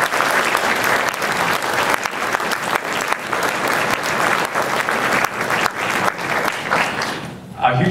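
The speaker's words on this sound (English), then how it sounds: "So a big round of applause to those students in Kappa Kappa Psi." Audience at a university wind ensemble concert applauds loudly for Kappa Kappa Psi band fraternity students, a dense steady clapping that fills the hall for about seven seconds before fading out at the end.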